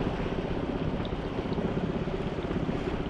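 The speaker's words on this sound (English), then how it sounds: "Wind has picked up quite a bit" Steady wind rushing outdoors on the water during bass fishing, a constant broad roar buffeting the microphone throughout, with no speech.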